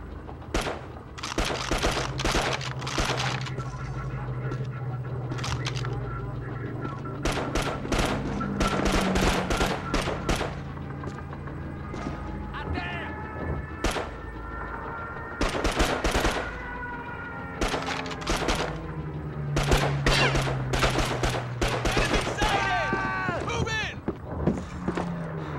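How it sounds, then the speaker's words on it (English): Enemy gunfire in the Call of Duty 2 video game: dense bursts of rifle and machine-gun fire, some near and loud, others farther off, in rapid clusters alongside game voices shouting. "Enemy fire! Left flank!"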